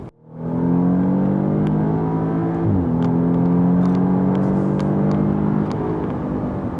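A 2015 Audi S3 pulls hard in third gear, its engine note climbing steadily and loud close by, with a brief dip near the start and no talk over it.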